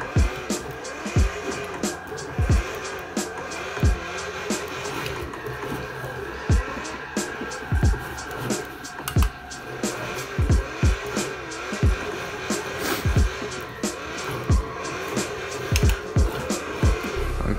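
Car drifting in Forza Horizon 3 played with a wheel, repeated sharp squeal bursts and thumps in a steady rhythm over a continuous engine drone.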